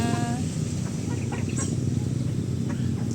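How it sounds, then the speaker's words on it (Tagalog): Chickens clucking nearby, a steady stream of short clucks and calls over a constant background hum. "and these are their chickens"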